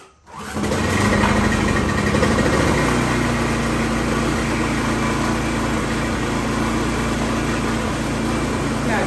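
A Coleman generator engine, just back from a carburetor rebuild, catches almost at once and runs at a loud, steady buzzing idle close by. It keeps going without stopping, and no voice can be heard over it.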